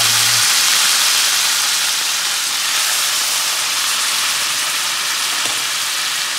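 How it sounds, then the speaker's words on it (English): Crane breasts searing in butter in a hot pan give a steady, loud sizzle and hiss that fills the whole clip evenly, close by with no talking. "we're gonna sear these crane breasts in a little bit of butter"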